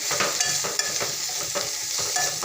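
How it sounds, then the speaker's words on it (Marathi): Green amaranth leaves sautéing in a hot pan, a steady close sizzle with repeated light scraping strokes as the greens are tossed and stirred. "तर या भाजीला मस्त असं परतून घेते"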